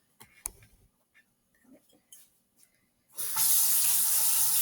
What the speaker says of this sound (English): I'm going to get some warm water from my sink